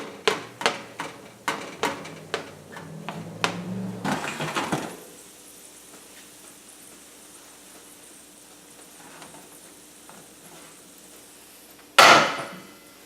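A knife cuts bacon strips on a board in a run of sharp close chops, about a dozen quick hits over four seconds, then quiet background and one louder thud near the end, with no talk.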